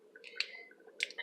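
Mustard seeds dropped into hot sesame oil while tempering a village-style rasam give a few sharp, faint pops and crackles over a low, steady sizzle.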